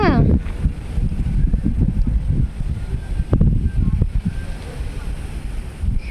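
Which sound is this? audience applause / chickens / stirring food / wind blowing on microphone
wind blowing on microphone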